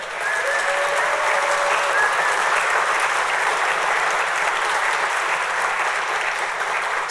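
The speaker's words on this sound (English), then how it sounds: "We need to give them a round of applause." Sustained audience applause fills a police graduation ceremony for Edinburg Police Department BPOC Class 2, steady and dense from start to finish with no talking over it.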